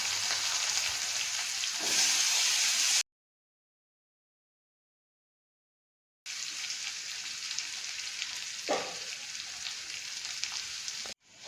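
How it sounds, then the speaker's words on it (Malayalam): Mustard seeds, dried chilli, curry leaves and chopped shallots frying in coconut oil, a steady close sizzle with a few brief stirring bumps, broken by a silent gap midway. "വെളിച്ചെണ്ണയിൽ സാധാരണ പോലെ കടുക്, വറ്റൽമുളക്, കറിവേപ്പില, പിന്നെ ചുവന്നുള്ളി"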